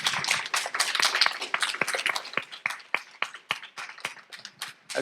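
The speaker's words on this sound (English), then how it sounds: "So let's give these filmmakers a round of applause again." Scattered audience clapping at a film premiere screening, a thinning round of applause with distinct individual claps and irregular rhythm, close and fairly loud.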